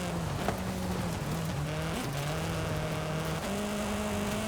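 A BMW driven in Forza Horizon 5 on a dirt scramble course, its engine holding a steady buzzing note that drops and climbs through gear changes, loud and continuous throughout.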